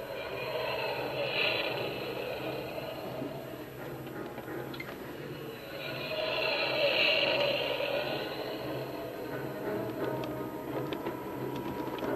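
A spaceship from a 1990s Star Wars fan film takes off with a swelling whooshing engine roar that rises, dips and surges again under a steady background hum.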